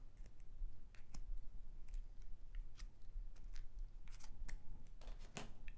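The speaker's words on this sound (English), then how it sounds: "Using my scissors again, I'm going to score." Repeated short, crisp snipping and scraping clicks from scissors scoring a wooden skewer, irregular and close, with no talking.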